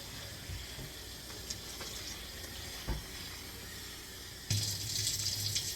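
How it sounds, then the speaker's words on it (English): Water from a kitchen tap streams into a pot of washed rice, a soft steady flow that grows louder and brighter near the end as the pot fills. "I'm just gonna put some water in it too."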